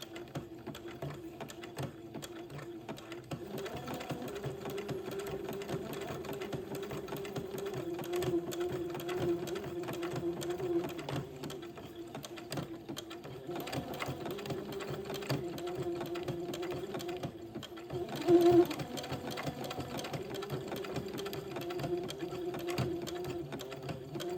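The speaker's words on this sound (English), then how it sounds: "And just simply zigzag that into place." Home sewing machine zigzag-stitching entre-deux lace trim onto the folded edge of a baby dress, a steady close hum with fast even needle chatter running throughout, briefly louder near the end.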